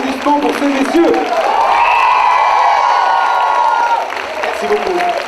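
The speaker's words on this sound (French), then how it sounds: "et un tonnerre d'applaudissements pour ces messieurs" Festival crowd applauding loudly and steadily after a musical act at an outdoor event in Divonne, with cheering and whoops rising over the clapping throughout.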